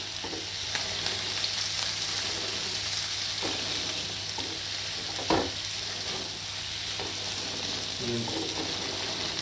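Chicken skin sizzles steadily in hot oil while a utensil presses and stirs it, giving occasional scraping knocks over the constant crackling hiss, close up, with faint talk in the background.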